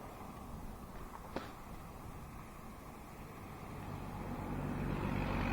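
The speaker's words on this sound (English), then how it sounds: "So we got a loud truck." A loud truck passes by on a road on a rainy day, the broad rumble swelling steadily toward the end with no talking.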